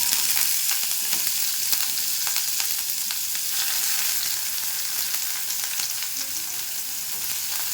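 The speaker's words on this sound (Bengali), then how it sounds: "এবার পেঁয়াজ কুচিটা দিয়ে দেবো," Chopped onion sizzles in hot mustard oil in a wok, a steady bright frying hiss punctuated by occasional crackles and stirring, close and alone.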